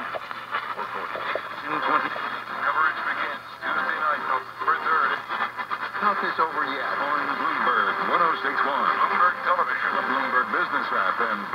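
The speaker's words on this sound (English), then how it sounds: "It's making noise, but static." Loud, steady hiss and crackle of static pours from a Channel Master Model 6515A radio turned all the way up, with faint garbled fragments drifting through the noise for the whole stretch.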